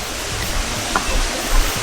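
Water trickles and rushes in a steady, hissing wash at an outdoor spot in Kuala Lumpur, continuous and fairly loud with a few low bumps underneath.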